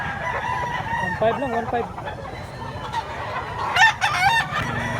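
Roosters crow loudly and chickens cluck close by at a busy gamecock market, several overlapping calls rising over background chatter as people talk and bargain.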